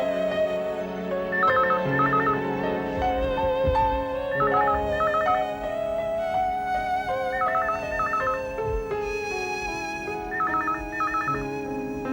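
A phone rings in repeated trilling bursts over music playing throughout.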